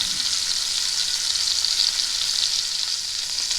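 A chuck roast sears in a roasting pan for a pot roast, giving a loud, steady, even sizzle and crackle of hot fat that carries on unbroken with no voices.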